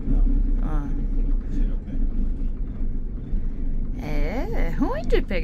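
A car engine on a weak 9.9-volt battery labours through a low, churning crank on a rough road in Bolivia's Eduardo Avaroa Reserve, then catches near the end and revs with rising pitch, with voices speaking over it.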